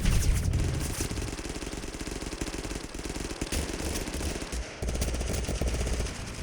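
Rapid automatic gunfire in the video game Totally Accurate Battlegrounds, a dense rattling burst of shots that breaks off briefly and resumes, loud and continuous with no talking.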